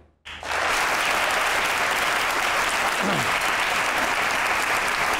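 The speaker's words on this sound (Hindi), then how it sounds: "अब बजाएं ताली" Studio audience applause on an Eid comedy show: after a brief silence, dense loud clapping starts abruptly and holds steady and sustained throughout.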